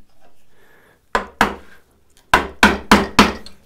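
A wood chisel is pounded into timber to chop a drawbore mortise for a mortise-and-tenon joint: two sharp strikes, a pause, then four more evenly spaced close, loud knocks.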